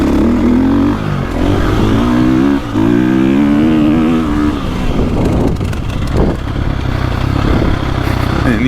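A KTM 450 Factory Edition dirt bike on a motocross track, engine rising and falling through revs with bursts of acceleration and clattering, loud and close throughout.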